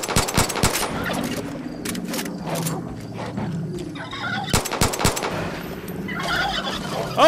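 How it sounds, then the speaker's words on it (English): Wild turkeys gobbling in Far Cry 5, with bursts of rapid gobbles and sharp clattering mixed with scattered gunfire-like cracks, fairly loud and busy throughout, with no talking. "Turkeys."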